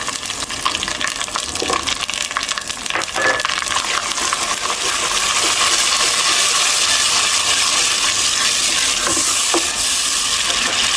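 Blended fresh tomato paste hits a hot pan for a dhaba-style achari chana dal, a loud close sizzle and bubbling frying with intermittent scraping and stirring clinks throughout.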